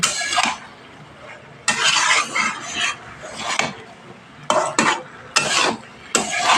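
Flat beans, eggplant and onion greens sauté with spices in a pan for a puti fish chorchori, with repeated bursts of scraping and clattering from stirring over a softer sizzle, close and alone.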